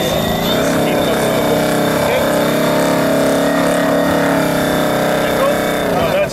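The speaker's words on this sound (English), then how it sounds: "I want to hear that." Electric Primal QuickSilver dragster motor spinning up with a steady high whine and dense whirring harmonics, loud and close for several seconds, with people talking nearby.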